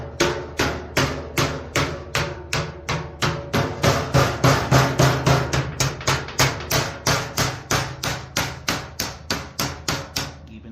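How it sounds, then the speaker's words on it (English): Sheet metal is being bent on a metal brake, producing a long series of loud, evenly spaced metallic bangs, roughly three per second, with no talking. "Brake sliding over. And bend that up. And bend this back down."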